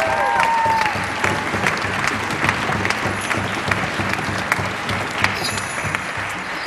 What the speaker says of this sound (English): Please, let's give them a round of applause.